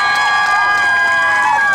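A concert crowd at an outdoor wind-band carnival in Zhongli, Taoyuan cheers and screams loudly, with sustained high-pitched shouting over clapping for a brief, intense burst.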